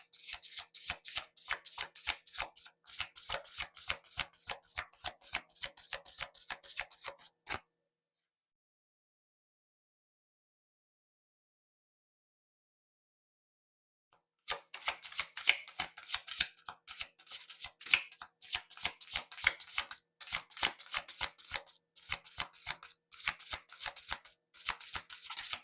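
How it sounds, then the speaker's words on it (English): Oracle cards shuffled by hand in a steady run of quick papery riffles and flicks, close and fairly loud, breaking off into several seconds of silence before the shuffling resumes. "We'll give it one more shuffle."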